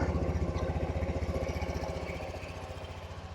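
A 2021 Honda Trail 125 CT125 motorcycle engine idles close by with a steady, even low chugging pulse that holds without speech and eases slightly toward the end.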